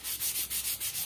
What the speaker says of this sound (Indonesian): Ini caranya menggunakan amplas.